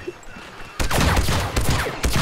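A sudden close burst of rapid blaster gunfire from the video game Star Wars Battlefront 2, a loud volley with overlapping shots after a quiet moment, then a brief pause and another shot.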